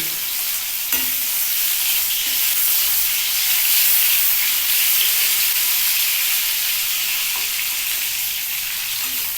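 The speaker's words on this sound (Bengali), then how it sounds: "এই তেলের মধ্যেই আমি আগে পেঁয়াজটা পোড়ন দিয়ে দিচ্ছি" Onion frying in hot oil in a wok, a loud continuous sizzle and hiss held steady throughout with faint occasional stirring sounds underneath, no voices.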